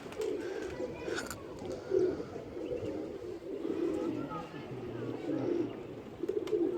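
Pigeons coo in soft, repeated low calls close by, while someone talks over them throughout.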